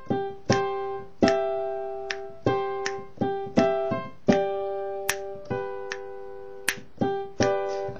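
Piano playing broken chords in an offbeat, syncopated rhythm, clear struck notes and short chord groups ringing out one after another, close and moderately loud with no talking.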